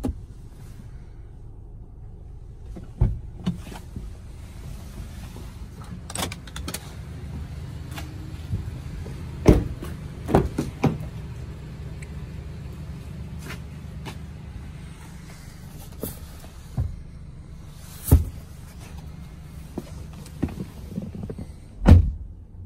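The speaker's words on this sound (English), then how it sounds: "Vehicle does come equipped with a tilt and full open sunroof." A 2014 Honda CR-V EX-L tilt-and-slide sunroof motor hums steadily inside the cabin, punctuated by several sharp clicks and clunks as the glass panel tilts and then slides fully open.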